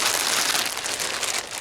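A plastic shipping bag crinkles and rustles in the hands, a brief burst of crisp crackling texture, close and fairly loud, with no voices.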